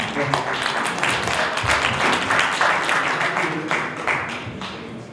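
Audience applause greets a guest lecturer introduced at a Korean leadership lecture event, a dense, steady wash of many hands clapping that holds loud for about five seconds and then thins slightly.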